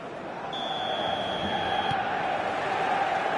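Stadium crowd roar in the eFootball video game on match day, a broad steady din of massed voices swelling slightly, with a faint whistle-like tone partway through.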